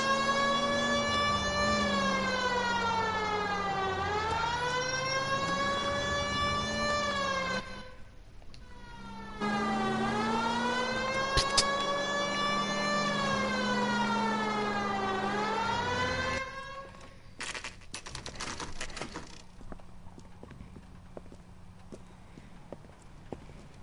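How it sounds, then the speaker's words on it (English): A video game police siren wails, rising and falling in long sweeps, loud and close, stops briefly, resumes, then cuts off into rumbling engine and street noise. "You know we've got a siren, Phelps."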